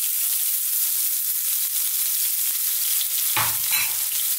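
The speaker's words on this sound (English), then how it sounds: "I'm putting my fresh chili in now" Finely cut onion and fresh chilli fry in hot spiced oil for a spicy keema kofta curry, a dense even hiss of sizzling throughout, with a brief louder clatter of stirring near the end.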